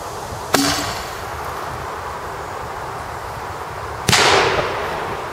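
Airsoft EGLM grenade launcher mounted on a rifle firing TAG shells outdoors, two sharp loud reports a few seconds apart, each trailing off, over steady wind noise.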